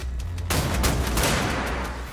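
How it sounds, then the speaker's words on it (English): A gun fires in Wolfenstein: The New Order, one abrupt heavy blast about half a second in, then a dense roaring burst of shots and reverberation that stays loud to the end. "Alright, so I shoot that off."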